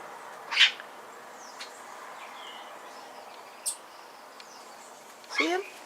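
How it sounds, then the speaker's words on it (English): A bird on Bonaire screaming near its nest at a troupial: a few sharp, shrill calls spaced several seconds apart, the last one longer and descending, heard outdoors over a quiet hiss of background ambience. "It's now screaming at the troupial to stay away from my home."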